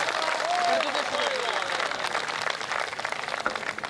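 Audience at a Hindi comic poetry show clapping in a dense, sustained round of applause, with voices and a speaker's talk mixed in.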